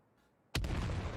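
Grenade explodes in a video game match, a sudden loud boom after a quiet moment, followed by a sustained rumbling decay.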